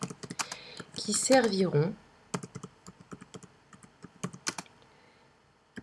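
Keystrokes on a computer keyboard entering presentation notes in PowerPoint 2013, crisp close clicks in irregular bursts, briefly overlapped by someone speaking French before the typing carries on alone.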